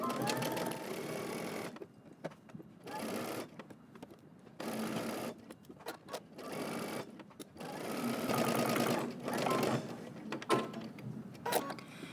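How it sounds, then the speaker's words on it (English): A sewing machine stitching a seam with backstitching at each end, running in close, loud bursts of rapid whirring and stopping between runs, with no talk over it. "we're going to go ahead and start stitching, back stitch at the beginning and at the end"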